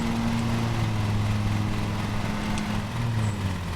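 A ride-on lawn mower engine in the video game Lawn Mowing Simulator hums loudly and steadily with its blades switched off, a continuous low drone that holds without pause.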